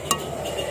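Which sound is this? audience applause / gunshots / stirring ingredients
stirring ingredients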